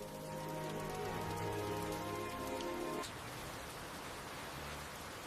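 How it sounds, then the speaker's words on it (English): Rain falls steadily on a farm, a soft even hiss of drops on surfaces, faint and continuous, with a sustained musical tone underneath for the first three seconds before it drops away. "The rain is getting stronger every moment."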